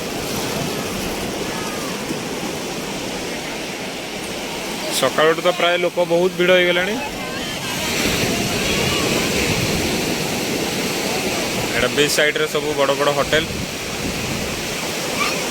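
Sea waves roll and wash onto Puri beach in a steady broad roar, with someone talking over the surf at two points.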